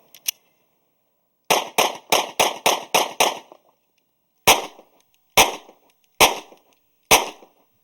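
Sharp pistol shots from a Ruger LC-9 ring out at an outdoor range, first a quick paired burst, then a fast string of six, followed by four slower, evenly spaced reports, loud and close with silence between.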